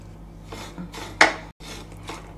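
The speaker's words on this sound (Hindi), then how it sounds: "सूजी को सेकने के लिए मैंने पैन के अंदर सूजी डाली है और पैन को गैस के ऊपर रखा है।" Fine semolina being dry-roasted in a pan over a low gas flame gives soft, steady scraping and stirring, with one sharper metallic clink from the pan.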